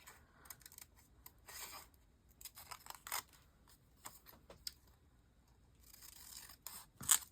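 Scissors cut out paper pieces for a travel journal, making close, quiet snips and rustling slides in irregular bursts with short pauses between them, ending in one sharper snip.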